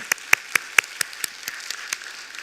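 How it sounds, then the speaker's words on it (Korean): A church congregation claps in praise during a worship service, sharp, evenly spaced claps in a quick steady rhythm that ring out clearly near the front, then thin and soften toward the end. "하나님께 감사의 박수를 드리겠습니다."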